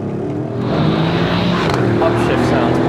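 A Mercedes-AMG GLC63 S Coupé's V8 revs and upshifts, a loud engine roar with quick changes in pitch as it climbs through gears, mixed with a voice talking.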